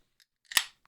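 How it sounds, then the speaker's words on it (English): A 12-ounce can of West Coast style IPA cracks open in one sharp, close hiss-pop that trails off quickly, preceded by a couple of faint metallic clicks as the tab is handled. "So we're going to go ahead and pop the top,"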